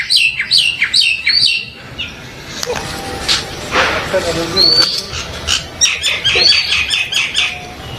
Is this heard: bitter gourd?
no